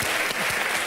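Dense, loud applause from a French television talk-show studio audience, steady and sustained for about a second, with no voices standing out over the clapping.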